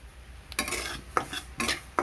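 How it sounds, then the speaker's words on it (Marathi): A utensil stirs wheat grits dry-roasting in a pan, making scraping, clinking strokes in irregular bursts with a few sharp metallic ticks, close and moderately loud, with no talking. "तिकडं गरा भाजतोय तोपर्यंत इकडे पाणी उकळीसाठी ठेवलं आहे।"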